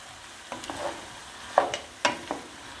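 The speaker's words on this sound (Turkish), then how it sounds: "Ve hepsini birlikte güzelce karıştırıyoruz" Broad beans and green onions are stirred in a pot, a few close scraping and clattering strokes with soft sizzling between them, irregular and distinct, with no talking.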